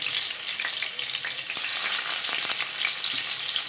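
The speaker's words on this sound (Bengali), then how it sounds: "তেল গরম হয়ে গেছে, আমি ইলিশ মাছগুলোকে দিয়ে দিচ্ছি এর মধ্যে" Small hilsa fish of about 300 to 500 grams, placed in hot oil for shorshe ilish, fry with a loud, steady, close sizzle and crackle throughout, with no talking.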